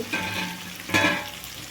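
Chopped vegetables fry in oil for ridge gourd chutney, a close, steady sizzle with a brief louder surge as they are stirred.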